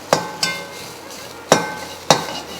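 Grated coconut roasting in a pan, with four or five sharp spatula knocks and scrapes against the metal over a soft dry crackle, close by and without voices.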